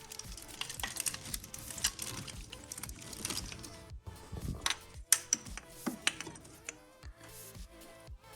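Ratchet clicks and metallic tool sounds come from removing the valve cover bolts on a Nissan 300ZX twin turbo engine in a garage, with bursts of clicking and clanks at close range.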